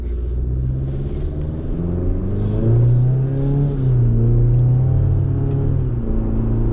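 A 2025 Chevy Colorado Trail Boss turbo engine accelerates with a loud, steady droning rumble whose pitch climbs and holds, heard from inside the truck without talk.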